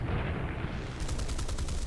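Aircraft gunfire in War Thunder from a Spitfire Vc and Typhoon 1b/L realistic air battle, a loud, dense burst of rapid cannon and machine-gun fire heard over steady engine roar for about two seconds with no speech.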